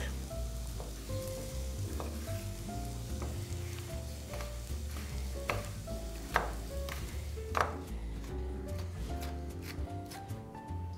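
A knife finely chops seeded tomatoes on a board in a steady run of quick, crisp taps over soft background music, with a few louder strikes.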